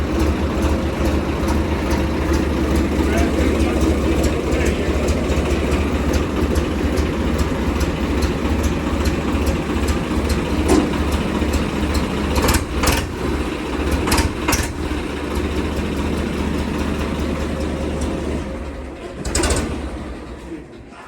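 A tractor engine idles steadily with a low, chugging rumble throughout, with a few sharp clicks and a brief bump near the end.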